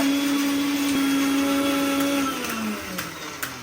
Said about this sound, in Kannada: ಅದೇ ಮಿಕ್ಸಿಗೆ ಹೆಂಗೆ ರುಬ್ಬುತ್ತೆ